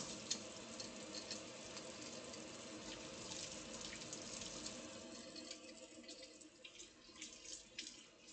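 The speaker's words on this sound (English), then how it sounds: "First I'm going to wash the utensils which I used." Used kitchen utensils being washed under a running tap, a steady close rush of water into a sink with small clinks and scrubbing throughout.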